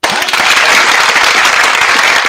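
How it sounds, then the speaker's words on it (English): Brief, loud burst of crowd clapping in a live audience, many hands applauding together in a dense, steady wash. "Give yourself a hand. Clap it. Clap it."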